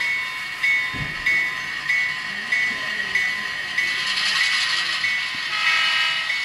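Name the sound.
model train locomotive sound running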